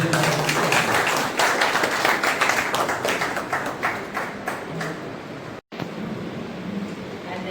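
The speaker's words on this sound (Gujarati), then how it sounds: "જોરદાર તાળીઓ" Audience applause at a senior citizens' club federation event held with a prostate check-up camp in Nadiad, Kheda district: dense, steady clapping from a crowd filling the room, easing slightly before a brief gap and resuming more thinly.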